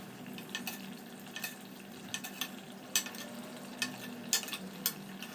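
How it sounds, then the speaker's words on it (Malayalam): A deep spoon ladles gravy over karimeen (pearl spot fish) simmering in a pan, giving soft bubbling and sizzling with light scrapes and clinks of the spoon that recur every half second or so. "ഒരു കുഴിവുള്ള സ്പൂൺ എടുത്തിട്ട് നമുക്കിതിൻ്റെ പുറത്തേക്കൊക്കെ നല്ലതുപോലെ കോരി ഒഴിച്ചു കൊടുക്കാം"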